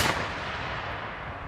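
A musket volley fired by Tennessee Militia reenactors, a single loud blast at the very start that rolls into a long, fading outdoor rumble and echo, with no one speaking.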